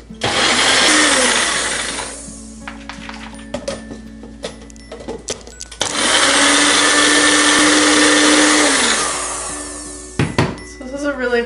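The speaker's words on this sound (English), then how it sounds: "I want to blend this and add this into the other drink" A blender whirs loudly blending almond milk for a homemade Unicorn Frappuccino, running in two long bursts separated by a pause with clinks and handling noises.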